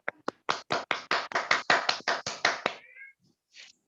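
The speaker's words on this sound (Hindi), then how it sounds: "तो आप सभी की जोरदार तालियों के बीच में इनवाइट कर रहा हूँ" Audience applause at an RCM network meeting greeting someone speaker, a run of about a dozen sharp, evenly spaced claps from a small group that then thins out, with a few scattered faint claps after.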